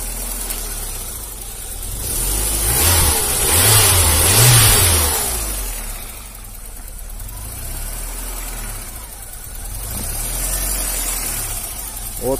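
A VW Golf 2 Country 4x4 engine idles close by and then revs up twice, the pitch climbing and falling back to a rough steady idle.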